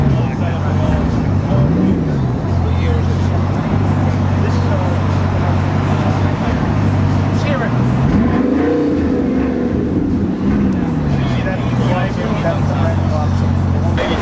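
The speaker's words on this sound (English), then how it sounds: "So if you were wondering what a W16 quad turbo sounds like, there you go." A Bugatti Chiron's W16 quad-turbo engine idles and revs in rising and falling bursts at a supercar event, with steady low rumble and crowd chatter mixed in.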